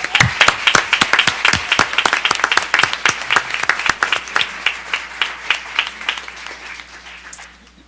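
An audience at a school district board meeting applauds in a standing ovation, dense sustained clapping close and loud at first, then gradually thinning and fading toward the end.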